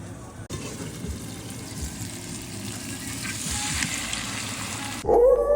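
Half-cooked mashed plantain sizzles in hot oil, a continuous close frying hiss that swells slightly and stops abruptly near the end, where a brief other sound takes over.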